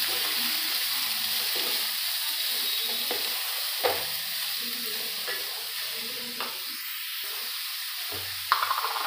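Chopped bottle gourd (lauki) frying in a pan for sabzi, a continuous close sizzle with occasional spoon scrapes and clinks as the pieces are stirred, and no talking.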